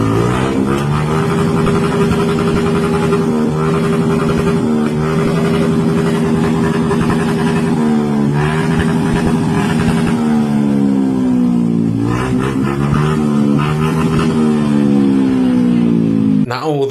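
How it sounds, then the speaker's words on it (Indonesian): A motorcycle with a loud aftermarket exhaust is revved hard again and again beside a funeral gathering. The deep, rasping engine note climbs and falls close by, and a voice is also present. "Ini malah motor dengan knalpot brong di blayer-blayer di samping jenazah."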